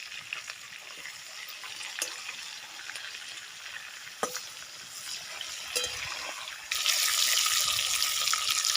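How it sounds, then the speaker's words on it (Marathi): Stuffed eggplants frying in oil in a pan, with a steady close sizzle throughout that swells louder near the end, plus a few sharp clinks and stirring knocks. "तेलात थोडंसं सगळे वांगे भाजून घेऊया, परतून घेते."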